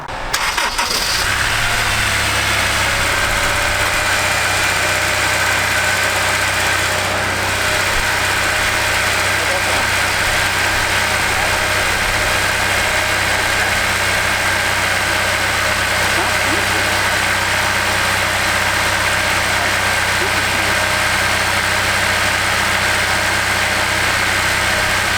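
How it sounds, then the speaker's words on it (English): A Honda S2000 CR with a slight misfire cranks briefly and catches, then settles into a loud, steady close-up idle that runs without a break, with voices talking over it. "So we're gonna start up the car before we put the cover on and see how she purrs."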